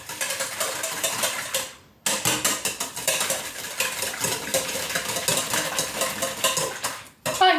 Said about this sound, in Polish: teraz na razie to trzeba wymieszać całość